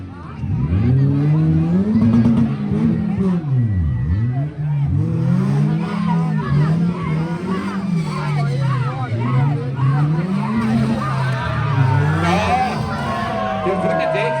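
Race cars in a car boxing final at Terndrup, engines revving and rising and falling in repeated swoops as they accelerate and pass, loud and continuous over a constant crowd hubbub with cheering.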